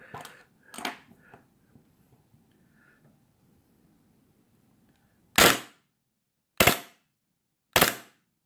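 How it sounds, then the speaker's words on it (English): An airsoft gun with a Spunky Micro MR GEN2 regulator and on/off valve fires on full auto at a sluggish rate: three loud, sharp shots spaced over a second apart, after faint handling noises. "So the gun's on full auto, but it's way too slow."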